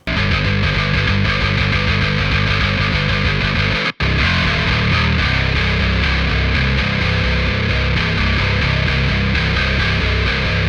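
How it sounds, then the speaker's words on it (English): A heavily distorted grindcore bass guitar tone, thick and saturated, plays a steady chugging riff for about ten seconds with one brief dropout near the four-second mark, loud with no talking. "Now, to understand the bass tone, which by the way sounds like this."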